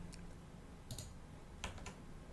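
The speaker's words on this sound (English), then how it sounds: "by typing in the name" A few faint, scattered clicks of typing on a computer keyboard, quiet and close, with brief pauses between short bursts of keystrokes.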